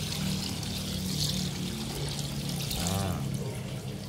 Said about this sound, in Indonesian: Kita pakai 2 liter ya, 2 liter ya, kita campur di sini semua di wadah ini.